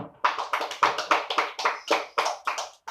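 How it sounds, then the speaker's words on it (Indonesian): A classroom group applauds, about a dozen sharp, evenly spaced clap bursts with quick decays, close and loud, with no talking over them. "Kita berikan aplaus kepada kelompok 2."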